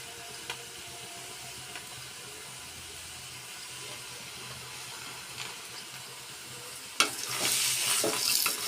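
Oil in a cooking pan for a Telugu dish sizzles with a steady, quiet hiss, then erupts suddenly into a louder, brighter crackle near the end.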